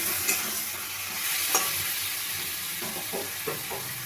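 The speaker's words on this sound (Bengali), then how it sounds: "এবার আমি মাছটা দিয়ে দেবো। মাছটা দিয়ে আবার ভালোভাবে কষিয়ে নেব।" Lote fish fries in a spiced masala while being stirred, making a continuous soft sizzle broken by a few scraping strokes, with a quick cluster of stirs near the end, close and with no talking.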